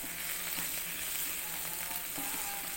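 Potatoes and mushrooms sizzle steadily in a pan after simmering under a lid, a continuous close frying hiss with faint scattered pops and no voices.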